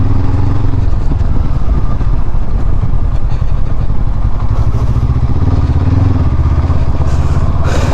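A 2022 Honda CB500X adventure motorcycle on a test ride, with a loud, steady engine drone and throbbing exhaust close to the microphone throughout, plus wind buffeting.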